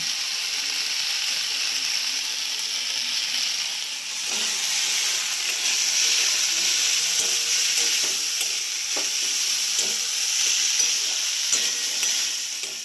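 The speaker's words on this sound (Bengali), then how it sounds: "ভালো করে নাড়াচাড়া করলাম" Spiced food with turmeric, cumin and salt frying in a pan, a steady bright sizzle and steam hiss running throughout, with soft scraping and clinking from a stirring spoon scattered over it, close and continuous with no talk.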